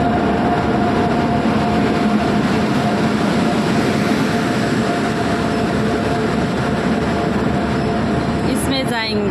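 A local passenger train on the Siliguri to Mal Bazar line, a continuous loud rumble and rattle with a faint whine, ending in a few sharp metallic clicks.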